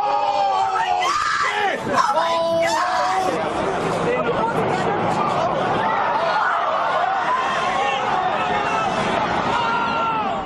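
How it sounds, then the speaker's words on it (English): A dense, agitated crowd of bystanders on September 11 shouts and screams continuously, voices overlapping loudly with sharp cries rising early on, then a steady roar of yelling. "the soundtrack is usually covered by the screams of those standing around the camera"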